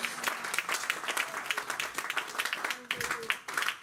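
A church congregation at a French-language sermon breaks into applause, a steady patter of many hands clapping at moderate volume while a voice speaks over it.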